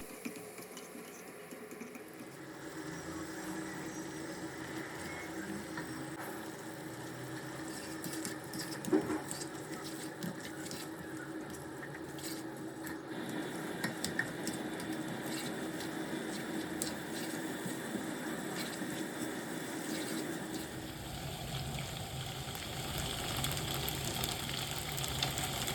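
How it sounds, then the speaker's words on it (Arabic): Vegetables, sauce and pasta sizzle and crackle in a hot frying pan as they are tossed and stirred, with steady frying noise and scraping utensil sounds building over time and no speech. "هقلب بقى كل ده مع بعض، وبعدين هضيف المكرونه واقلبها تقلبتين"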